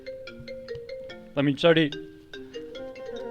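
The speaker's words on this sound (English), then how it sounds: "That's my phone." A mobile phone ringtone plays a repeating tonal melody during late-night backgammon commentary at a hotel casino, with a voice briefly cutting in over the ringing.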